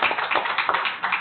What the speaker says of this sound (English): We should probably applaud him for that